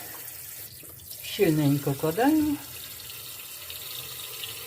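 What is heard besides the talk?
water pouring into a pot of meat for stew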